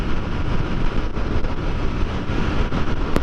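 Heavy, steady wind roar buffets a rider on a Royal Enfield Continental GT 650 motorcycle cruising at 70 mph with no wind protection, a loud, constant broadband rush that masks almost everything else.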